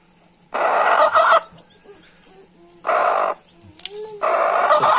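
A hen that has just hatched chicks lets out loud, harsh clucking squawks in three long bursts, with a brief chirp in one gap, close by and with no talking.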